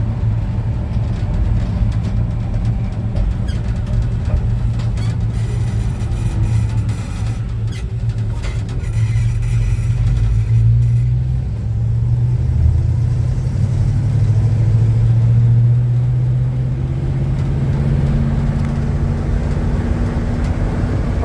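Steady low engine drone of a 1966 Chevy C10 pickup truck cruising along, continuous and fairly loud throughout, with a gradual rise in pitch near the middle as it picks up speed.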